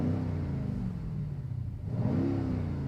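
A car engine revs loudly with its exhaust open, a deep, throaty rumble, dipping briefly before climbing again in a second rev.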